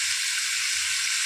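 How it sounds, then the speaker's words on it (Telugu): Onions and green chilies fry in hot oil with cumin, giving a steady, close, dense sizzle that holds evenly throughout with no voices over it. "ఇలా మంచిగా ఫ్రై చేసుకోవాలి గోల్డెన్ బ్రౌన్ వచ్చేసరికి"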